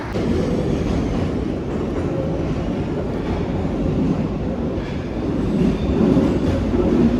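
A metro train runs with a continuous low rumble and faint rhythmic clatter, heard from inside the carriage at steady volume.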